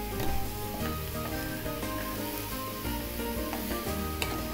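Capsicum, corn and onions sautéing together in a pan for corn tikki, giving a continuous soft sizzle with occasional stirring clicks beneath faint tonal background sounds.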